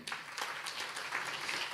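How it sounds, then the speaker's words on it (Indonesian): A church congregation claps during a sermon, with a brief burst of scattered, fairly soft handclaps heard at moderate distance. "Boleh tepuk tangan bagi Tuhan saudara?"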